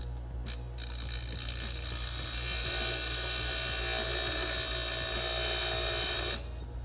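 A power tool grinding down a metal flat bar gives a steady, high-pitched whine continuously for several seconds, loud and close, then cuts off.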